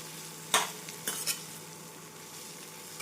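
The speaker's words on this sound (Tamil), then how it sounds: "காலிஃப்ளவர் சேர்த்து மீடியம் ஃப்ளேமில் நன்றாக வதக்க வேண்டும்." Cauliflower fries in a little oil in a pan on a medium flame, sizzling softly while a spoon scrapes and stirs it in a few sharp strokes.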